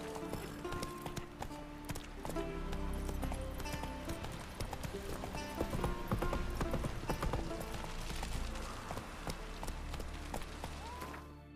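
Roach the horse gallops in The Witcher 3, a steady, loud clip-clop of hooves running under game music and ambience, with a brief whinny and some talk mixed in.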